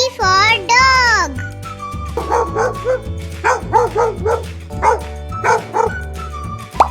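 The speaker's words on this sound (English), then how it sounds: "D for dog." Dog barking in a children's alphabet song, a few quick yips and barks in a rhythmic pattern, mixed with someone speaking and a musical backing.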